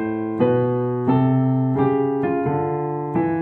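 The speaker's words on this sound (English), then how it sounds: "this walking bass line should imply those chords now." Single-note walking bass line on piano with no chords, moving in steady quarter-note steps, each note struck clearly with a sustained tone, played close and alone.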